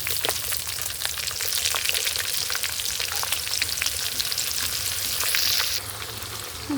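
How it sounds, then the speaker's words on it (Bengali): Chopped onion and whole cumin fry in raw mustard oil in a pan, a steady, dense sizzle crackling continuously at close range with a slight dip near the end and no voices. "দিয়ে ভেজে নেব পেঁয়াজটা লাল লাল করে ভেজে নেব"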